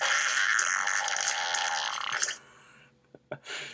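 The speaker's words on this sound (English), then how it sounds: "Fart sound, but it's slow." A slowed-down fart sound effect plays as a long, loud, raspy, drawn-out blast lasting over two seconds, then tapers into a few faint sputters and pops.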